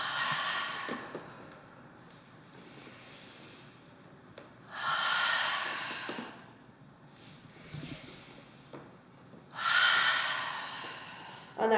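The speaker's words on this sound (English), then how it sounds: "Let's hear the breathing." Deep, audible exhales during a yoga core exercise come in three long, forceful breaths spaced a few seconds apart, with quieter breathing between them and no talking.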